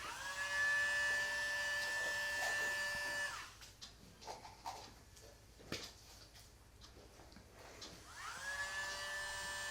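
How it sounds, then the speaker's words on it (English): Dremel nail grinder used on a dog's nails gives a loud, steady high-pitched whine that winds down and stops, then spins back up near the end, with a few quiet thumps and rustles in the gap. "I put a bit more focus on turning the Dremel on and off, and sometimes I even turn it on to a slightly higher speed so it's even louder"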